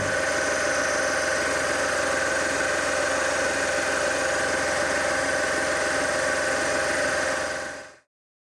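A steady mechanical drone with a constant machine hum from a metal-cutting machine taking 100 thou passes off a part on a SIP Hydroptic 6 jig borer, holding an even tone throughout before cutting off abruptly near the end.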